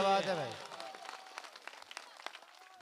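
Scattered clapping from an audience at a mushaira poetry gathering, following a voice that trails off at the start, with light, uneven claps rising a little in density across the clip.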